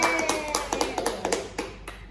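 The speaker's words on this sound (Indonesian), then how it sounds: "Kita beri tepuk tangan lagi" A small group claps for guests in a school podcast recording, with distinct close hand claps in a quick uneven rhythm that thin out and taper off within about two seconds.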